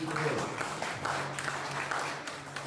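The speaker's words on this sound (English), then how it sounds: "Give the Lord a hand clap of praise to the Lord" A church congregation claps in praise, a soft, diffuse patter of many hands heard faintly under a speaker's voice.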